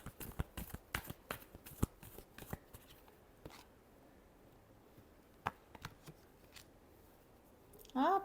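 Tarot cards being shuffled by hand in a quiet room, a run of crisp riffling bursts followed by a few scattered flicks and taps, close and fairly soft.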